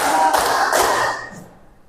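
A classroom group claps in a counted routine, a few sharp, close hand claps in quick succession, then the sound trails off into quiet.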